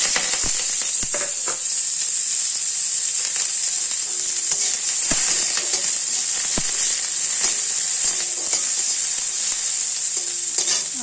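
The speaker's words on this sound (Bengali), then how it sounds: "তার জন্য পেঁয়াজটা ভেজে নিই" Onions fry in hot oil in a home kitchen pan with a continuous, even sizzle. Scattered spoon clicks and scrapes from stirring sit on top of the sizzle, which stays close and steady with no talk.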